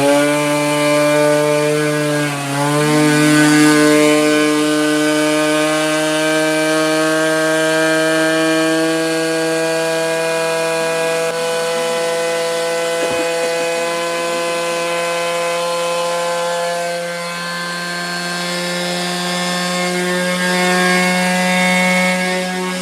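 Cobbled-together 90cc Jog scooter motor running steadily at high revs, a loud buzzing two-stroke whine held for the full stretch with slight dips in speed, close and alone without talk.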